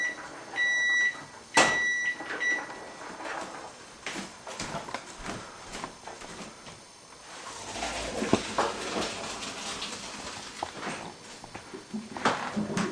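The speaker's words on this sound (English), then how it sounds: "There's the timer." A kitchen cooking timer gives a few short, high beeps early on, followed by quieter clattering and kitchen movement.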